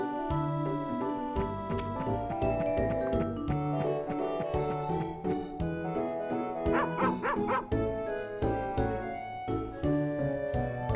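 A cartoonish dog in the PS2 game Harvest Moon: Save the Homeland barks in a quick run of short yips, set against steady, busy game music.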